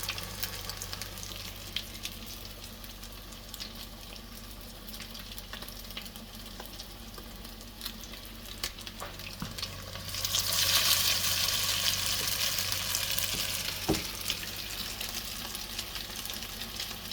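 Canned-salmon patties laid into hot oil on a stovetop, a soft steady frying hiss with occasional crackles that swells louder midway, joined by a faint low hum throughout.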